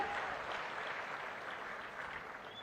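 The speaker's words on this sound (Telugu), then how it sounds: "గట్టిగా చప్పట్లు కొట్టి అభినందించండి." An audience at a government officials' public event claps steadily, a dense, even wash of applause from many hands that holds throughout at a moderate distance.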